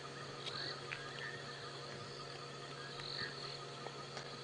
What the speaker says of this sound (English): We can hear frogs and a fiery-necked nightjar in the background.